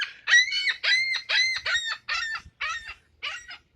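A seagull calls close by in a rapid series of about eight loud, harsh squawks with short gaps between them. No other sounds compete.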